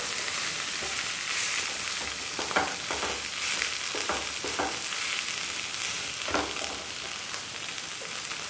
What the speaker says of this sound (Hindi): और आलू को मसाले के साथ मिलाते हुए अच्छे से भून लेंगे।